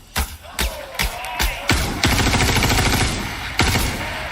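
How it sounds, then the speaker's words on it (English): Gunfire strikes water in a Star Citizen game demo: a series of loud close shots, each bursting with a splashy crash, spaced apart at first, then a sustained burst of rapid fire and one last heavy shot. "And then this next demo, we're going to fire some bullets."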